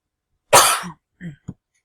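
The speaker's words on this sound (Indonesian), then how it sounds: "Maaf ya Ibu, lagi batuk." A single close cough, followed by two short throat-clearing coughs, in an otherwise quiet room.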